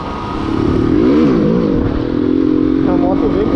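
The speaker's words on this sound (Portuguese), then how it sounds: "Essa moto vem com tudo, família" A motorcycle accelerates hard on a ride, its engine loud and close throughout with a rising, shifting drone, while someone talks over it.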